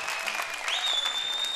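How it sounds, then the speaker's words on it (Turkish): Dense audience applause fills the whole short stretch, steady and fairly loud, with a thin high tone running through it. "Hani alkışlar?"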